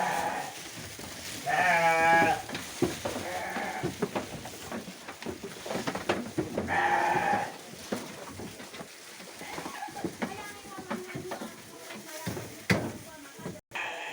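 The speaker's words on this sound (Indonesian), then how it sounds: "Ini domba-domba." Short-eared Garut sheep bleat in a farm pen, with two loud, drawn-out wavering calls and a few fainter ones from the flock, mixed with a person talking nearby.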